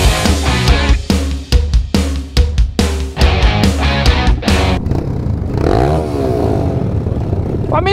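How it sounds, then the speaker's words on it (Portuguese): Many motorcycles crowd together on a group ride, close and loud, with sharp bursts of revving and clattering, then a steadier, rougher engine roar as the pack moves off. "Tanta moto que não existe andar junto aqui."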